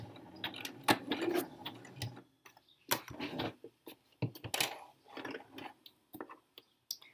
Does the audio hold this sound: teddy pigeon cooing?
no